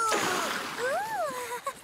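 Water splash at the foot of a cruise ship water slide in an animated show, a brief burst of splashing at the start followed by a sliding, whooping voice.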